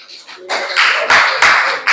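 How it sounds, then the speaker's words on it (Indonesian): Children in a junior high school religion class clap their hands, a few loud, close bursts of clapping that come in uneven groups and end abruptly. "Tepuk tangan anak-anak."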